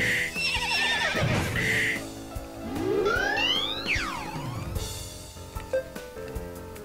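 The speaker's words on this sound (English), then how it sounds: "horse sound." A horse neighs in the video game Legion Saga III, a loud, long, wavering whinny with rising and falling squeals, followed by softer snorts and faint clip-clop, standing alone without talk.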